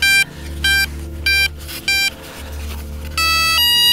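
An FMS Maule 1500mm RC plane beeps after its 4S battery is plugged in, giving a series of loud, close electronic tones in short bursts and a longer final pair over a steady low hum.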